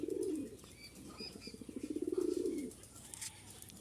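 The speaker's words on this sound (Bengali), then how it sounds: "অনেক কবুতর আছে ঘরে আছে" Pigeons coo softly in a series of low, pulsing calls, faint and fairly close, with light chirps and wing sounds around them.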